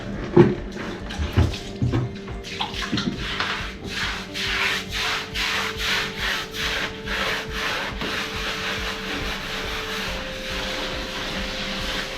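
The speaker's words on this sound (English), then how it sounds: "I'm just going to use a brush" A brush spreads PVA primer across a bathroom floor in steady, rhythmic scrubbing strokes, close and continuous with no talking.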